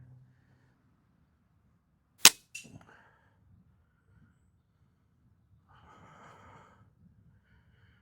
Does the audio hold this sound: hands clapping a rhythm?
no